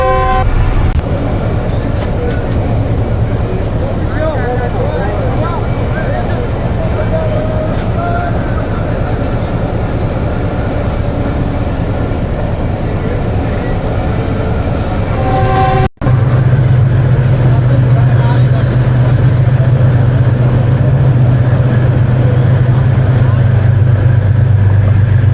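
The Khushhal Khan Khatak Express rumbles steadily and loudly up close on its first run, with a horn tone early on and a deeper, heavier rumble after a sharp break midway.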